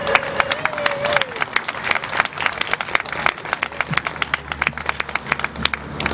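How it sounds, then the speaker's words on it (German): Crowd clapping at an outdoor peace vigil in Vienna: brisk, scattered claps that thicken into steady applause, with a brief tone at the start and some murmuring voices underneath. "man sollte ihr einen Applaus geben"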